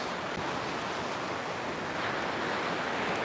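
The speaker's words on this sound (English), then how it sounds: "the waves start breaking right where the end of the beach is" Waves break and wash continuously onto the shore at Madeira Beach, a loud, close, unbroken surf roar with wind noise and no voices.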